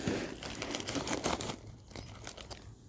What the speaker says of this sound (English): so I just ripped this crappy plastic bag